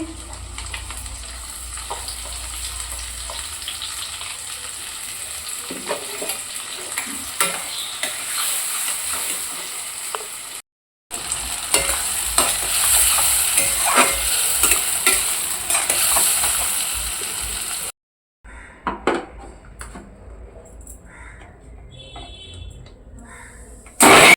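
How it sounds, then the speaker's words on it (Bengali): Fish frying in a pan in a home kitchen, a steady loud sizzle with scraping stirring sounds, broken by brief gaps where the sound cuts out, then resuming more faintly. "এবার মাছ বসিয়ে দিচ্ছি"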